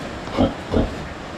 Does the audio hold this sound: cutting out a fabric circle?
no